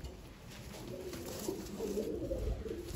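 Pigeons cooing softly in a low, breathy murmur, several close-by calls overlapping into a continuous hum with no talking.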